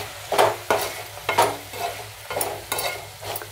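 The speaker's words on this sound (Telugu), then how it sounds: "సాల్ట్, కొద్దిగా ధనియా పౌడరు వేసాము కదా, ఒకసారి బాగా కలుపుకున్నాము" Raw papaya fry with salt and coriander powder stirred in a pan, about eight brisk scraping strokes over a light sizzle, close and fairly loud, with no talking.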